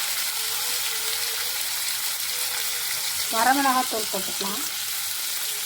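Onions, tomato, turmeric and chilli powder sizzle steadily in a pan for a drumstick stir-fry, a constant hiss running throughout while a voice speaks briefly near the end.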